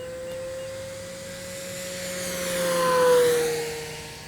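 An E-Flite Super Timber 1.7m RC airplane on a 6-cell battery runs at wide open throttle, giving a steady electric motor whine that swells louder mid-pass around three seconds, then eases as it moves away.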